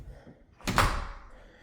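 The front door of a house opens with a single solid thump and a short rattling swing that trails off, heard close after a quiet moment.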